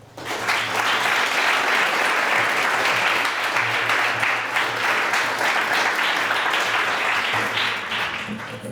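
Sustained audience applause welcoming a lecturer at an artists' lecture series, a dense steady wash of many hands clapping, loud and unbroken for several seconds before tapering off at the end.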